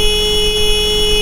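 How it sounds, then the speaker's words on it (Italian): A scooter's horn held down in one long, unbroken honk, loud and steady for the whole moment with no pauses. "il colpo di clacson ci sta sempre"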